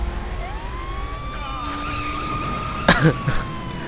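A police car siren wails from a vehicle in the video game Saints Row IV, a rising and falling tone at moderate volume, with a short cough-like burst near the end.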